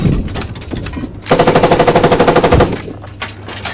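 Rapid automatic cannon fire from a BMP-1 infantry fighting vehicle in Squad, a loud sustained burst of evenly spaced shots lasting over a second, with scattered gunfire and battlefield noise before and after.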